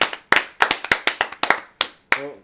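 Separate claps from a small group of podcast hosts, about ten sharp hand strikes in an uneven burst, close and loud, with brief gaps between them and no talking.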